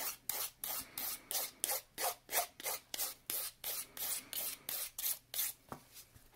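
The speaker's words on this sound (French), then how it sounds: "Et je vais juste graffiner la surface de mon ongle parce que je vais mettre une couche de gel pour créer mon chrome." A fingernail surface is buffed before a gel coat, giving a quick, even run of short scratchy rasping strokes, about three per second, close and soft with no talking.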